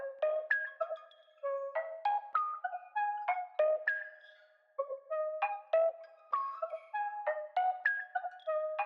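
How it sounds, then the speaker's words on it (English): An Analog Lab synthesizer preset called Polygon plays short, bright, plucky notes jumping between pitches in a quick, uneven rhythm, each note with a slightly different odd timbre, played alone. "I opened up another Analog Lab, also a preset from Max Shooter. It's called Polygon"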